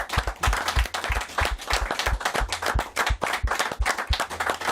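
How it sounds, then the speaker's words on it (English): A live audience claps steadily and close by, the dense, even patter of many hands holding for the whole stretch. "give them all a big round of applause"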